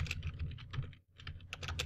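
A command being entered on a computer keyboard in a terminal, rapid close key clicks in a steady stream with a brief pause midway, no voices.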